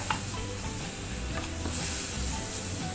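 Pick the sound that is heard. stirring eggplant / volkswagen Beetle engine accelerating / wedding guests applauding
stirring eggplant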